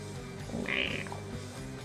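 A short, raspy croaking meow rises briefly over a quiet room hum, a single rough call lasting under a second.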